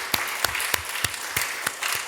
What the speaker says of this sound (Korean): 아버지 하나님께 우리 모든 감사와 영광의 박수를 올려드립니다.